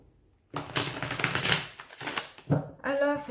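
A deck of blue oracle cards is riffled and shuffled up close, giving a dry, crackling flutter of card edges in a couple of quick bursts, with a faint voice near the end.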